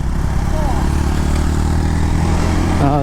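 Motorcycles riding on a hill road near Sindukchhari, Khagrachhari, a loud continuous engine drone from close by with wind noise, while people talk over it.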